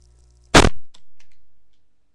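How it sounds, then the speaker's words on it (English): A single sharp, loud cannon blast from the Call of Duty 4 video game, firing once near the start and trailing off into a long fading rumble, alone with no talk. "Cannon fires."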